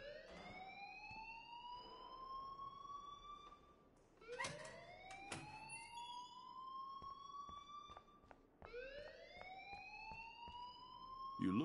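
A wailing, rising electronic alarm sounds in a PS4 video game, sweeping upward in repeated cycles that restart after brief gaps, loud and continuous, with faint other game sounds beneath.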